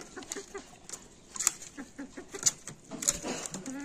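Chickens clucking in short, irregular bursts at close range, with occasional sharper squawks; no talking.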